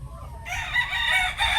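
Rooster crowing loudly and close, a single long cock-a-doodle-doo call from a large grey rooster, standing alone without talk.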